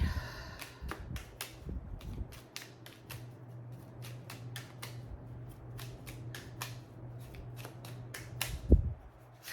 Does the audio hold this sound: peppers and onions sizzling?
no